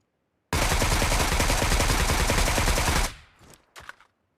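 Sustained automatic gunfire in the mobile game BGMI blasts loudly for about two and a half seconds, then cuts to a few scattered softer shots.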